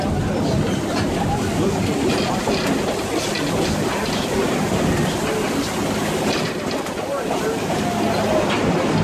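Steady rumble and rattle of the Fiesta Texas Railroad ride train at Six Flags Fiesta Texas, a continuous loud roar of wheels and carriage noise with faint clicks throughout.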